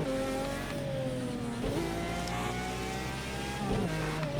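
An exotic sports car engine races on dirt in a video game, holding a steady high drone. Pitch sweeps climb and drop with gear changes and throttle lifts, and there is no talk.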